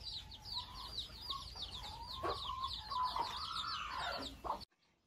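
Free-ranging backyard hens cluck and chirp outdoors while pecking at grass, a fairly quiet, continuous chatter of several birds with sharper calls rising near the end before it cuts off.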